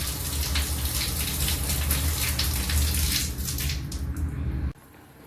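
Water runs steadily and loudly from a tap during handwashing, a continuous close gushing that cuts off abruptly near the end, leaving quiet room tone.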